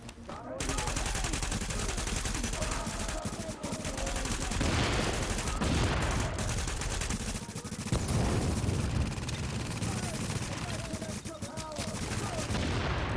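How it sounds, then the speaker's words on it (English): Turret fire in The Division keeps up sustained rapid bursts of automatic gunfire with heavy low rumble, loud and dense for most of the stretch, with brief lulls between volleys. "That little turret's amazing."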